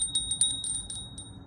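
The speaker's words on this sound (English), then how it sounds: "So let's ring the bell." A small bell is struck repeatedly in quick irregular strokes, its bright ringing tones overlapping and sustaining over a low background rumble.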